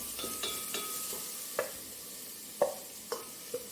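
Spice powders stirred and sautéed with onions in a pan for egg curry: a continuous gentle sizzle with a series of sharp spatula scrapes and taps at irregular intervals, close by and without talk.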